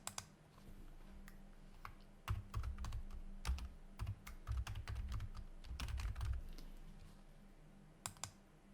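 Rapid clicking of keystrokes on a computer keyboard while text is entered in a blog design editor, coming in uneven bursts with short pauses, close and fairly quiet with no talking.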